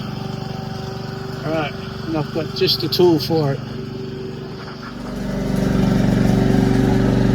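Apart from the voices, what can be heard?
lawn mower running outside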